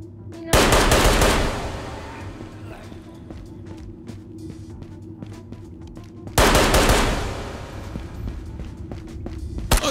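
Galil rifle fired in a video game, two loud sustained automatic bursts several seconds apart, each fading into a scatter of sharp distant shots and rattles.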